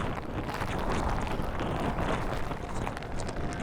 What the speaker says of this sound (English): this is a crazy wind.